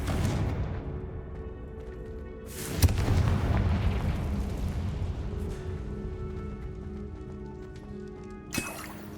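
Confringo fire-spell explosions in Hogwarts Legacy combat burst out as two sharp, loud booms several seconds apart, each trailing into a rumbling, crackling decay over ambient game sound.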